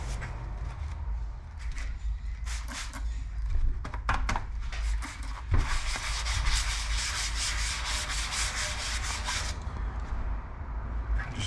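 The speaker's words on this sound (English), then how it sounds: "Just sand it lightly." Sandpaper is rubbed lightly back and forth over a painted Frisco-style motorcycle fuel tank, a close, steady scratchy rasp with rhythmic strokes over a low background hum.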